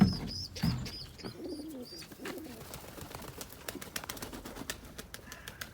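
Pigeons in a coop coo softly with scattered chirps and a few wing flutters, close by, over a low steady background hum.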